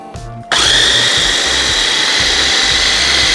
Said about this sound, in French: On va d'abord brancher le mixeur.